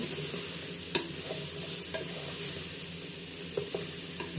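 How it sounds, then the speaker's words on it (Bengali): Soya chunks, vegetables, rice and green chillies for a soya veg pulao sizzle steadily in a pan, with a few sharp clinks and scrapes of a spoon stirring through the continuous frying hiss. "ভেজে নিব কিছুক্ষণের জন্য"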